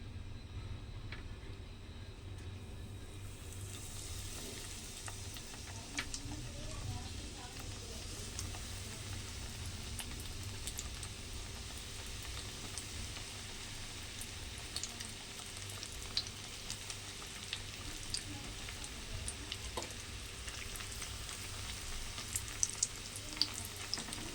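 Bread pieces frying in ghee for a bread halwa, double ka meetha, give a steady, soft sizzle that runs continuously with occasional small pops and stirring clinks.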